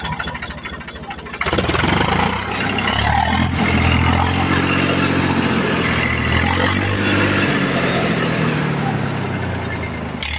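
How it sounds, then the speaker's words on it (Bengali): An old-model Eicher tractor with a hopper engine ploughing a field starts up loudly after a quiet opening second. Its steady, rumbling engine drone runs close and continuous, with clatter and a few revving swells. "আইসার হপার ইঞ্জিন।"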